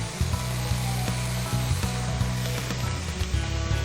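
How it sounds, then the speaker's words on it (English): Bacon sizzles steadily in a hot pan, a constant crackling hiss with low hum underneath and occasional soft clicks, close and fairly loud. "Hear the sizzle? That sizzle means your pan's hot enough."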